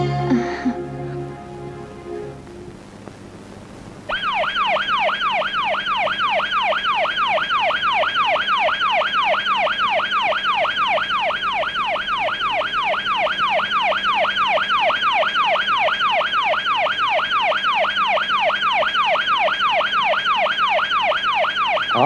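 An ambulance siren wails loud and close in a steady rising-and-falling cycle that repeats without a break, following a few seconds of voices and other sound at the start.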